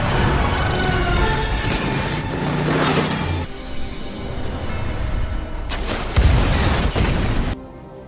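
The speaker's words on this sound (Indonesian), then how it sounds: "Tiba-tiba si Chao melepaskan tembakan" Gunshots in a kung fu film: a few booming, explosive bursts set against a cinematic score and rumbling background, loud and close, with no talk.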